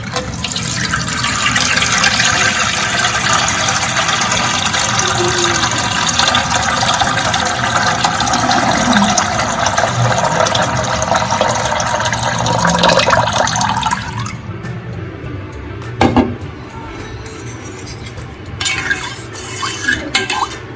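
Water is poured into a large bowl of skimmed milk cream and stirred around with a spoon while making homemade butter, a steady close liquid splashing and swirling that fades out, followed by a few light clinks.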